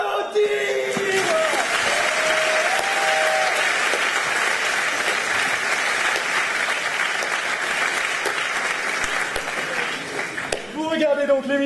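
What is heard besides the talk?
audience applause for a game show contestant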